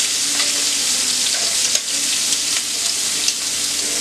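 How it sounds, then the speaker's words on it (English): Blackened Cajun shrimp sear in a hot pan, giving a steady, close sizzle with a few light scrapes and taps of stirring, no voices over it. "And we'll cook them on the other side for another 2 minutes."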